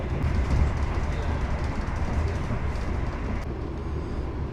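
Steady low rumble and broadband roar of a train moving fast, continuous and fairly loud throughout with no breaks.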